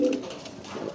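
Racing pigeon cooing close by, a single short throaty coo at the start fading into quiet room noise.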